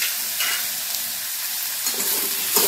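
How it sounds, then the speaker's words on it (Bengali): Potatoes, tomato and ground spices fry in a pan while being stirred, giving a close, steady sizzling hiss with a few scraping stir sounds toward the end. "টমেটোটা দিয়ে আলুর সাথে একটু নাড়াচাড়া করছি।"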